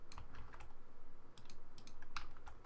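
Rapid, uneven keystrokes on a computer keyboard while typing JavaScript code in Unity, close and continuous with brief pauses between bursts.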